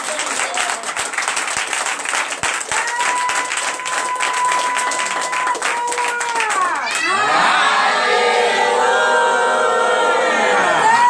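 A church congregation at a night deliverance and prophecy service cheers and acclaims, with loud, sustained crowd noise, applause and shouting that swells further toward the end.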